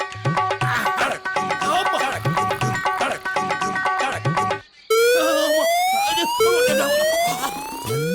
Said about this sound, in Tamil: ஓ, லேட்டா அலாரம் அடிக்கிறது.